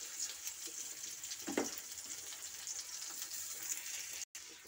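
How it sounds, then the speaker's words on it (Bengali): Chopped onion fries in oil in a wok, giving a steady, bright sizzle throughout with a brief scrape of stirring near the start and a short dropout near the end. "কড়াইয়ের মধ্যে এই তেলের মধ্যে আমি পেঁয়াজ কুচি দিয়ে দিচ্ছি"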